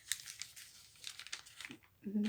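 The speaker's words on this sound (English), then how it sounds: "I'm just going to fold it wherever I want it to kind of" Lined wide-ruled paper being folded for a junk journal, soft crinkling and creasing rustles up close, with someone talking over the handling.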